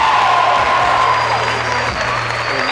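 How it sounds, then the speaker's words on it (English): A volleyball crowd at an HU home match against Mount Vernon roars and cheers steadily, a dense wall of voices and whoops filling the gym, with a low hum underneath and faint talk mixed in. "And you can hear the crowd roar right now."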